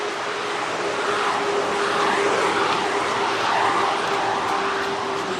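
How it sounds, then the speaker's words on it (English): A garbage truck rolls past on a neighborhood street during a run, a loud, steady engine and road roar that swells slightly as it passes. "Yet another garbage truck."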